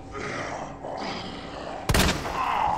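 A single loud pistol shot in Resident Evil 2 Remake bursts out over dim ambience and zombie grunting, with a brief ringing tail afterward.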